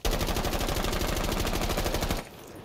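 AR-33 rifle fire in Rainbow Six Siege with a 1.5x scope and angled grip: a loud, rapid, unbroken automatic burst lasting about two seconds, then a sudden stop into faint room tone.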